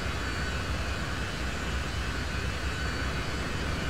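Delta DC-9 jet engines run at full throttle in Flight Simulator 2004, producing a constant, dense roar with no changes in intensity and no voices.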